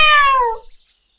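A cartoon cat gives a single clear, loud meow that slides downward in pitch and fades within about half a second.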